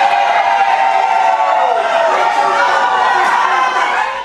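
A crowd in the legislative chamber of a state assembly boos a deputy, a dense sustained roar of many voices, loud and continuous for about four seconds before easing slightly at the end.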